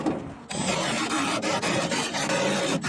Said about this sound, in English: it's a step drill bit